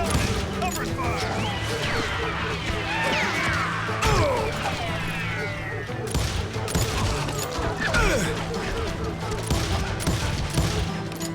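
Gunfire in the western video game Call of Juarez: Gunslinger, a steady clatter of shots and crashes running through the whole stretch, layered under a tense musical score with a voice speaking over it.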